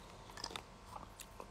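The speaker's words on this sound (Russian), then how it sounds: "я еще колбасу заедаю" Close, quiet crunching and chewing of cucumber and sausage at night, a few soft bites and mouth sounds with no talk.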